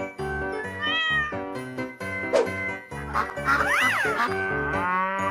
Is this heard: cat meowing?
yes